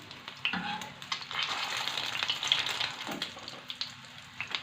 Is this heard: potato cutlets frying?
yes